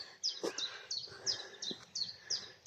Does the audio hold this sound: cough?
no